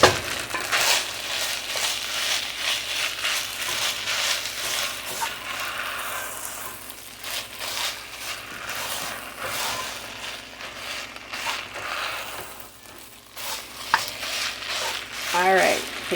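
Haddock pieces stir-frying in a pan of fried rice, a steady dense sizzle with stirring scrapes and tosses, close and continuous, with brief faint voice moments.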